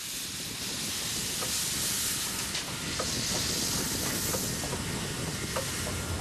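Steady loud hiss of escaping steam over a low chuffing rumble, with faint rhythmic puffs and clanks as a locomotive gets moving.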